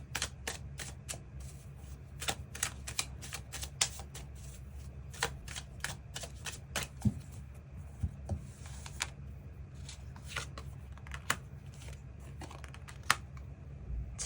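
Tarot cards being shuffled and drawn during a reading, crisp riffling and sliding snaps ticking steadily and close up, with small taps scattered through a low background hum and no talking.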